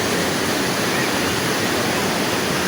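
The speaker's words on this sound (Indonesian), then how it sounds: "Ini aliran Sungai Cibentar." Steady, loud roar of the Cibentar river rushing over large rocks at Curug Leuwi Tonjong waterfall in the rainy season, a dense continuous wash of water filling the whole clip with no voices.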